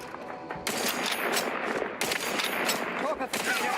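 Sustained rapid automatic gunfire in The Outer Worlds 2, loud and dense, with a brief break midway before the burst resumes, and game sounds mixed in.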